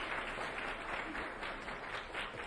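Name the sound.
audience applause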